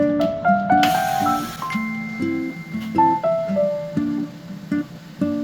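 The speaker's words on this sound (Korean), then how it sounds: "물 내려간 소리 들리시죠?" Gurgling water drains through a bathroom washbasin pipe after a clog, with irregular bubbling, glugging tones that rise and fall, fairly close and quiet, with no talking.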